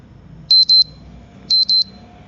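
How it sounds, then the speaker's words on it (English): A phone alarm ringtone previews inside an app: two pairs of sharp, high electronic beeps, each pair a quick double pulse, spaced about a second apart, clear and close with no talking. "I select this ringtone"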